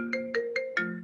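An incoming call triggers a phone ringtone: four quick bright electronic tones in a steady rhythm over a sustained chord, clear and close with no talking.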